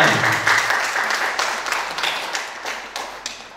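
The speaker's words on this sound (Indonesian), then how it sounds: "ini kasih tepuk tangan" Audience applause at a session on performance ideas, a dense burst of clapping that starts full and slowly thins out, with a few louder individual claps standing out near the end.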